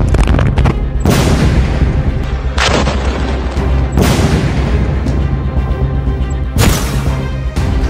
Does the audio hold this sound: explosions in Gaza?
yes